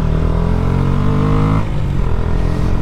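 A 2019 KTM Duke 125 motorcycle roaring loudly while ridden, its engine note held high and steady before dropping in pitch as the revs fall, then continuing at a lower drone.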